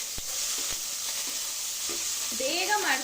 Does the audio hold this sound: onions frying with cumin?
yes